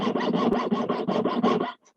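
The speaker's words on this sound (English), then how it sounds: "Just cut through the spiral now that you've just wound onto the dowel or your mandrel." Small hand saw cutting through wire coiled around a wooden dowel, about a dozen rapid, even back-and-forth rasping strokes, close and crisp, stopping abruptly just before the end.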